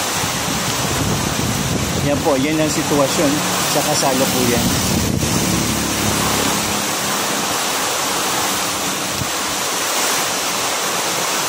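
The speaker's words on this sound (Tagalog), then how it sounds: "patuloy na rin ang paghampas ng malalakas na hangin, pagbugso ng malalakas na hangin" Strong typhoon gusts lash a riverside area in Burdeos, Quezon, a loud continuous roar of wind and rushing noise that stays steady throughout, with a person talking over it early on.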